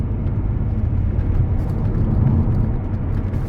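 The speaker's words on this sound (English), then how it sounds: "So the car pulled away very nicely there, the clutch and the gearbox feel good." A black 2015 MINI Convertible 1.6 Cooper D manual diesel drives along with a steady, loud low engine and road rumble, smooth and unbroken throughout.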